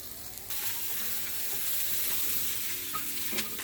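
Onions frying in a pan, a soft, steady sizzle with a few light pokes and taps from a utensil, close and fairly quiet.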